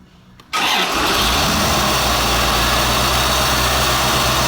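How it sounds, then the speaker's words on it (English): 1990 Chevrolet C4 Corvette L98 engine starting up: a brief quiet moment, then the engine catches abruptly and settles into a loud, steady idle close by, with no talking. "We'll go ahead and start it up here."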